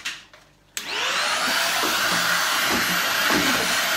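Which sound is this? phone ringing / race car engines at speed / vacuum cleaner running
vacuum cleaner running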